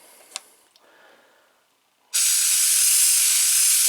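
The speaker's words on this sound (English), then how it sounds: "So get yourself a air compressor or compressed air like I did here" Compressed air blasting dust out of a computer, a sudden loud, close, sustained hiss starting partway through after a few faint clicks and near quiet, with no talking.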